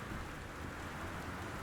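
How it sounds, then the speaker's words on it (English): Steady, soft rain in the video game Gone Home falls on a house and streams down its windows, a continuous even hiss with no voices. "it's quite atmospheric with the sound of the rain and the water coming down the windows"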